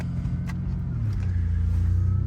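A 1988 Ford Ranger pickup engine with a new stainless steel muffler idles with a low, steady rumble, then revs slightly and settles into a deeper, even drone, fairly close by.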